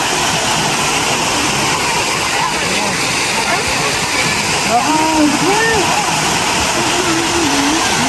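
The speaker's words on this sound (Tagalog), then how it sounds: "Ito na daw yung ilog." A river at Inicbulan in Bauan, Batangas rushes steadily and loudly, a broad continuous wash of flowing water filling the whole stretch, with faint voices and chirps barely rising above it.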